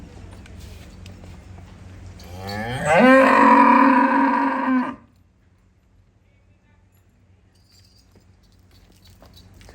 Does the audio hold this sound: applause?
no